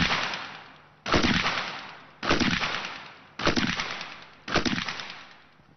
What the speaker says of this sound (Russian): Переключаем и получаем автоматическое оружие.